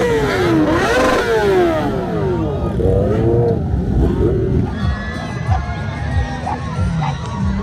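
Engines rev loudly at a heavy bike meet, pitch climbing and falling as riders throttle up, amid a noisy crowd with shouting voices.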